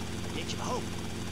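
Steady rotor and engine drone of a helicopter in Grand Theft Auto: Vice City fills the clip, constant and dense beneath a voice.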